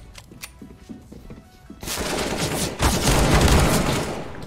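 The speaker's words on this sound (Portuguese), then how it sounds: "Nossa, galera, tomei um tiro" Rapid bursts of gunfire crackle loudly and continuously, growing heavier after a quieter start, in a Counter-Strike (CS:GO) firefight.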